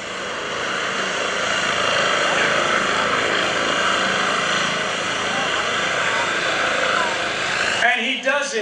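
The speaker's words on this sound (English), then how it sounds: "underneath the helicopter, you got to be aware of that because it will move a significant amount of air while you're in a hover" A Eurocopter EC135 helicopter hovers and sets down at an airshow, its loud, steady rotor and turbine roar filling the air before cutting off abruptly near the end.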